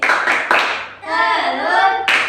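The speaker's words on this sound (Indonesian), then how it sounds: "Tepuk nyamuk Aedes." Schoolchildren in a third-grade classroom performing an Aedes mosquito clap chant, sharp rhythmic bursts of hand claps in a few quick groups, alternating with children's voices singing along loudly nearby.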